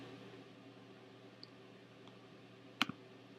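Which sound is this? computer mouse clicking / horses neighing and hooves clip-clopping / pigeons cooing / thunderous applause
computer mouse clicking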